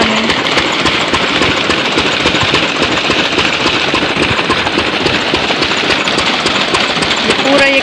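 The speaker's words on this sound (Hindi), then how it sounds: "देखो ये इंजन और ये देखो पानी, ये जा रहा है खेतों में पानी।" An engine pumping water into farm fields runs loud and close in a steady, unbroken chug for the whole stretch, with a constant rush mixed in.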